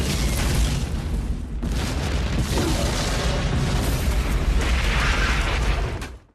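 A loud, sustained explosion sound effect in the style of a summer blockbuster movie, with booming low rumble and crackling bursts that roll on for several seconds, then cut off abruptly.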